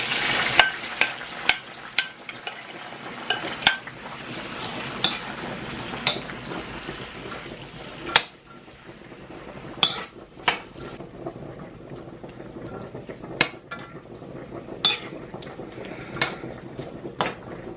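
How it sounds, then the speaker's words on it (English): Seasonings sautéing in hot coconut oil in a pot, a soft continuous sizzle punctuated by scattered sharp clinks and scrapes of a utensil against the pot. "I'm gonna let this saute a bit"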